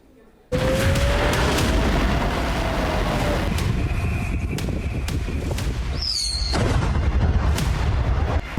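Iranian missile strikes exploding in Israel, from Tel Aviv to Jerusalem, bursting in as a sudden loud roar with rumbling booms and a rising whistle, sustained and heavy, with shouting voices faintly mixed in.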